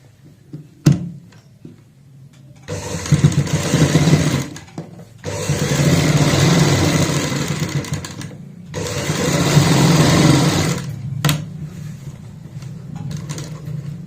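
A sewing machine stitches a fabric patch in three sustained whirring runs, each a few seconds long with short pauses between, loud and close, plus a sharp click near the start.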